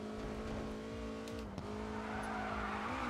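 A race car in the GRID 2 racing game spins out, its engine holding a steady loud drone with harmonic bands while tire skid noise smears across the mix, briefly dipping near the middle before the engine rises again.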